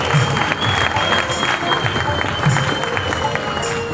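Sustained clapping from an audience at a school Teacher Day event, a steady, moderately loud applause filling the whole stretch with crowd murmur mixed in.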